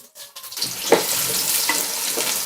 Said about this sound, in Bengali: এখন দিচ্ছি 2 কাপ পেঁয়াজ কুচানো।